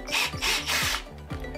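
A drill bit bores out screws on the carbon fibre chassis of a WLtoys 144001 RC car, giving three or four short, close grinding bursts of the power drill with brief pauses between them.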